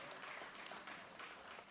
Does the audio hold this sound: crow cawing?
no